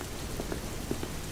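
A steady wash of rain falls on the ground, even and continuous, with a few soft drips standing out briefly and no voices.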